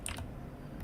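Quick clicks of typing on a computer keyboard, a few sharp keystrokes at the start and end over a low background hum.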